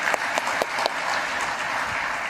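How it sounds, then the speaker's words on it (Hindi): Audience applause at a stock market investing event: a dense wash of clapping from a crowd, with a few sharper individual claps near the start, steady and moderately loud. "तो एक बार जोरदार तालियां हो जाए दोनों के लिए।"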